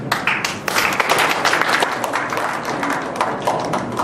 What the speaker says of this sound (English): What about one applause for that?